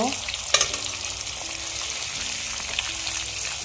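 Chopped onion hitting hot oil for a Bengali pangas fish and potato curry, a sharp initial burst settling into a steady close sizzle and crackle, with no talk.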